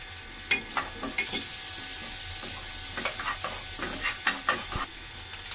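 Chopped garlic sizzling in hot butter in a pan while pasta is being made, a steady soft hiss with scattered crackles and a few sharper pops and scrapes; no one talks.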